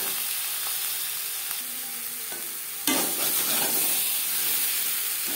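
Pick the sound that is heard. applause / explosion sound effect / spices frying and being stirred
spices frying and being stirred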